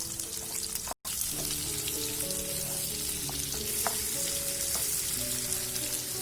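Two cups of sliced onions sizzle steadily in hot coconut oil in a pan for a South Indian chicken curry. The frying hiss is loud and continuous, with small pops and a short break near the start.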